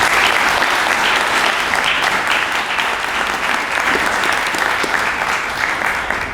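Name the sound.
audience applause at awards ceremony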